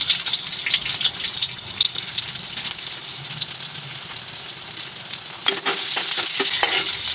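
Sliced onion frying in a pan, a steady broadband sizzle with scraping stir sounds that grow more frequent toward the end, close and fairly loud with no voices.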